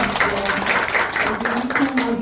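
A seated audience claps warmly to welcome a Buddhist monk to a talk on healing medicinal teas, a dense steady wash of applause throughout, with a voice faintly heard over it.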